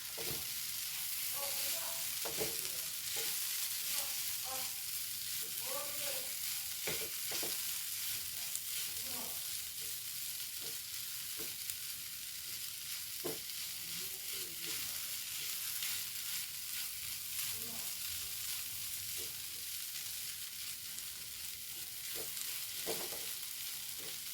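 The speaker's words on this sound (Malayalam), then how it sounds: "ഇനി ഇതിലേക്ക് മുട്ട ഇട്ട് കൊടുക്കേ ഒന്ന് ഇളക്കി കൊടുക്കാം" Egg for kothu chapati frying in a pan gives a continuous bright sizzle, with scattered scrapes and taps of a spatula stirring throughout, steady and close.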